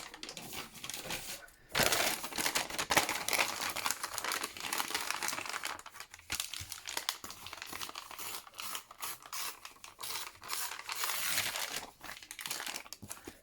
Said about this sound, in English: Sorry, lots of paper noise this morning.